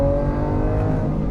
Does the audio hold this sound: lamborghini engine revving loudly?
yes